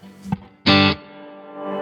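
An electric guitar plays through an Amplified Nation Six String Sustain amp with heavy reverb. A short plucked note is followed by a loud, distorted strummed chord that rings out into a long, sustained reverb tail.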